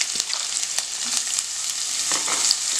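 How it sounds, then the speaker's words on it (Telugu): Onions sizzling and frying in a pan for an aloo matar kurma, a steady bright hiss with occasional stirring clicks throughout. "సో నేను ఫస్ట్ ఇందులో ఆనియన్స్ అనేవి వేసేసుకుంటున్నాను."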